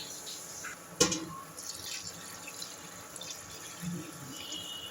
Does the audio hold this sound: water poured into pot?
yes